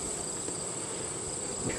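Honey bees buzzing inside an opened hive, with a faint, steady high drone that holds without a break, quiet and close-up with no talk.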